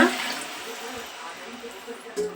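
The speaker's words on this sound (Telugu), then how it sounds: "బాగా వేగిన తర్వాత ఇందులో ఎనిమిది గ్లాసులు వాటర్ వేసుకోవాలి" Water rushes into a pot of fried chicken biryani base, glass after glass, in a village cooking setting: a close pour that starts strong and settles into a softer trickle.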